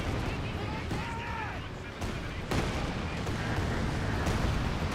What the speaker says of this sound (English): Now here comes another land mattress barrage